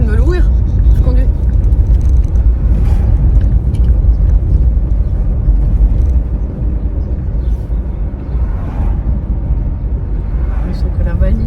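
A car heard from inside while driving, a loud, steady low road rumble and engine drone throughout, with people chatting over it.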